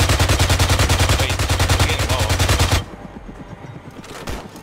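A mounted turret fires in ARMA 3, a loud, rapid, evenly paced burst of close automatic gunfire that stops abruptly and leaves quieter scattered game noise and a few faint distant shots.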